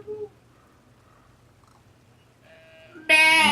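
A single sheep bleat in the video game Brothers: A Tale of Two Sons, a short, loud, close bleat that bursts out at the end after near silence, preceded by faint game sounds.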